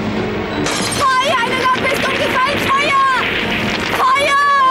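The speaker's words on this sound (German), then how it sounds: "Eine Lampe ist umgefallen!" An oil lamp topples aboard a ship in a Sandokan animated adventure, bursting into a loud crash of shattering glass over a busy scene where frantic shouting voices carry on throughout.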